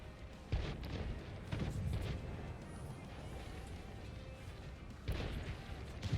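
Tank cannon shots boom in a tactical warfare video game, with a few heavy blasts spaced apart over a continuous low rumble of battle noise.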